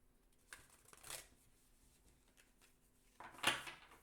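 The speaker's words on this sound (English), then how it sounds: "So we're just shuffling." Oracle cards being shuffled by hand make a few quiet, brisk riffling bursts, the last one the loudest and closest, separated by near silence.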